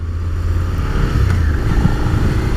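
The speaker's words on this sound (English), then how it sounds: "The low rumble this twin has as well means you get heard as you're creeping up on traffic" A 2018 Suzuki SV650 twin-cylinder motorcycle engine gives a steady, low rumble at an even idle or cruise, loud and close, with no voices.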